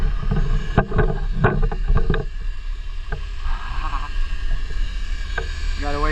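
A 12-valve Cummins diesel with 93,000 miles idles just after a cold start without a block heater. It makes a steady, close, low rumble, and a few sharp knocks come early on.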